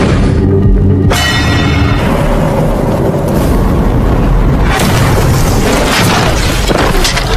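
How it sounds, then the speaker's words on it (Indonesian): In a war film, a gunpowder trap explodes with a dense, sustained boom and roaring rumble. It is loud and continuous, with crackling debris and a tonal sound effect at the start, and no speech. "Kali ini berupa bubuk mesiu yang kemudian meledak."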